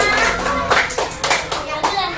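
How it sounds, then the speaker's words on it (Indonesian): Schoolchildren in a classroom clap for their classmates after a dance performance, close and loud, the claps falling into a quick, fairly regular rhythm with a few children's voices mixed in. "Silakan beri tepuk tangan untuk teman-temannya."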